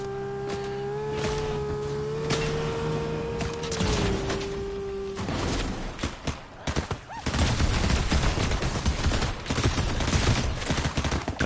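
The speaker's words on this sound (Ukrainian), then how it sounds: "Класно стріляю, блін" Rapid bursts of gunfire in Fortnite crackle and boom continuously, dense and loud, with a steady engine-like tone fading out early on.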